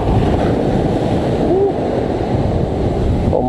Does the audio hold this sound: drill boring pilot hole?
no